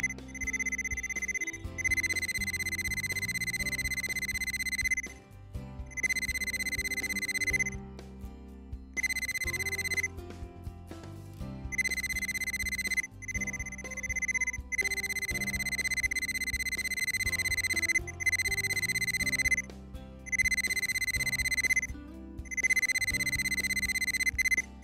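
An Armada Pro800 wire and valve locator sounds its signal tone: a bright, steady electronic beep that repeats in bursts of a few seconds, separated by short pauses, with no talking.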